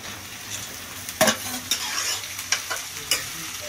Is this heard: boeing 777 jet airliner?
no